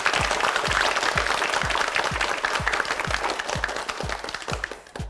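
A studio audience at a Korean TV quiz show applauds steadily, a dense wash of clapping with a rhythmic low thump on the beat running throughout and fading slightly at the end.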